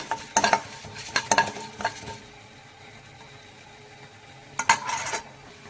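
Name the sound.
mustard seeds and urad dal frying in oil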